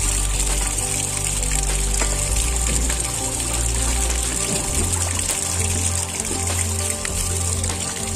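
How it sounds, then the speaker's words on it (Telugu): Groundwater seeping and trickling out of rock layers at the bottom of a deep quarry pit, a steady watery wash with low rumbling beneath, continuous and fairly loud with no voices. "ఇక్కడ చూడండి నీళ్ళు చూడండి భూగర్భ జలాలు ఎట్లా పొరలలో నుంచి వస్తున్నాయో."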